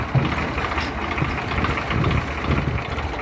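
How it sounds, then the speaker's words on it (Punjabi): A tractor engine running at a steady idle nearby, a low continuous rumble with faint knocking pulses and no talk. "ਇਹ ਦੇਖੋ ਆ ਟਰੈਕਟਰ ਕਿੱਡਾ ਕਿ ਟਰੈਕਟਰ ਹੈ"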